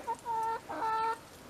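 Chickens out in a driveway in New Mexico, a few drawn-out clucking calls in two bursts, close and clear with no talk.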